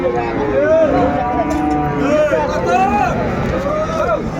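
A black Sahiwal bull at a cattle market in Dinajpur lets out several loud, drawn-out moos close by, over a background of crowd chatter.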